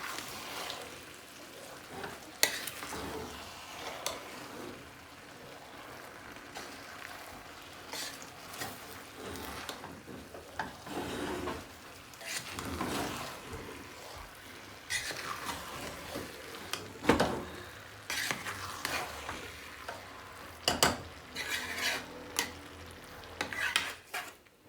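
Mutton yukhni pilau stirred in a pot over low gas, with irregular scraping and clinking of a spoon against the pot and soft sizzling underneath, intermittent sharp knocks rising over a quiet background.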